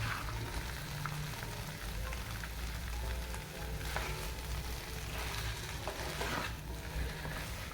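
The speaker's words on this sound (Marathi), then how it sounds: "पुन्हा एकदा झाकण काढून हलवून घेऊया थोडंसं." Mixed vegetable bhogi bhaji frying in a pan, a steady close sizzle with faint scraping and clinks as it is stirred, no voices.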